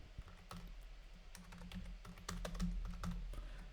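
Rapid clicking keystrokes on a computer keyboard, close and fairly quiet, a dense irregular patter of taps over a low steady hum.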